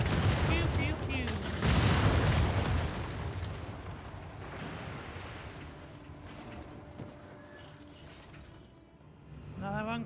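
Video game gunfire in DarksideRP: loud bursts of shots and mechanical clatter early on, then sparser, fainter reports trailing off, with a voice talking faintly now and then.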